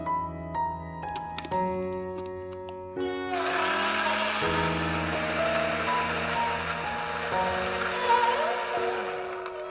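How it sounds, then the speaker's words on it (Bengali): After a few seconds of quiet tones, a blender motor whirs up blending dragon fruit with water and runs steadily with a loud, buzzing drone until the end. "এখন আমি ব্লেন্ডার মেশিনে ব্লেন্ড করব।"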